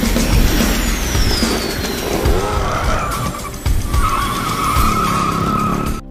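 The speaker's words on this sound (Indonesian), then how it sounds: "Dan dalam kejar-kejaran itu membuat mobil Yadi yang ditumpangi Butut, Njet, dan juga Cuneng terbalik karena panik" Tires squeal loudly as a car skids through a chase scene in a film, one long screech running the full six seconds with engine noise beneath, briefly dropping before the squeal picks up again.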